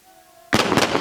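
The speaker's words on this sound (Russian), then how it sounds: "Непосредственно сейчас была стрельба с РПГ" Firing from an RPG and assorted small arms at a military training range, heard as a sudden loud blast followed by a dense, sustained rumble of shots and echoes.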